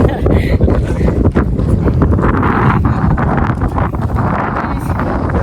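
Strong gusty wind roars steadily across the Kothaligad (Peth) hilltop fort, buffeting the microphone in a loud, unbroken rush while a voice talks underneath.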